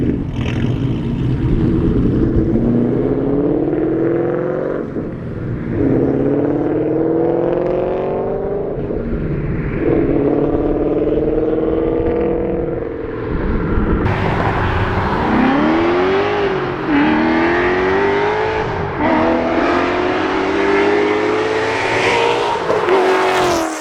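A 2014 Ford Mustang with a modified exhaust and Tommy quad tips revs loud and close, its engine rising and falling through several throttle blips and pulls without any talk.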